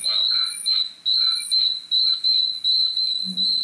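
Cricket chirping up close indoors, a loud, shrill pulsing trill repeated in regular bursts roughly every half second, alone with a faint low background.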